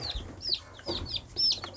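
Baby chicks on a homestead give several short high chirps and peeps, close by, with faint background noise and no talk.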